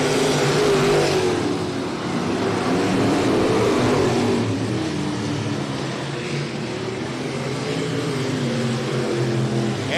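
Race cars at I-37 Speedway roar around the oval track, their engines droning loudly and continuously with shifting pitch as the field passes, several cars blending together at a steady distance with no voices.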